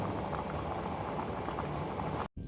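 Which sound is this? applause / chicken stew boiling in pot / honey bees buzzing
chicken stew boiling in pot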